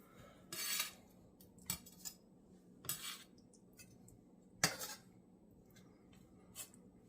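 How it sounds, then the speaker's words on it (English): A potato tortilla quesadilla filled with brisket pot roast being cut in half, with several sharp scraping and clinking strokes of a utensil on a plate, separated by quiet gaps. "I guess I'll just cut this one here in half"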